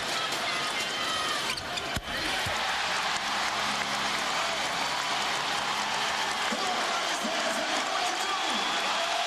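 A basketball arena crowd cheering at a Lakers versus Rockets playoff game, a loud steady roar that fills the space throughout, with a ball bounce and a courtside commentator talking over it.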